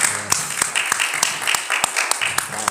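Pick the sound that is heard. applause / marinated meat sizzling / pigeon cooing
applause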